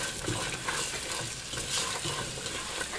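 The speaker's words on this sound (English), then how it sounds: "And now you can start to hear it sizzling a little bit." Chopped garlic and onion sizzle in a pan, a soft, steady frying crackle close by with occasional stirring scrapes, fairly quiet and without voices.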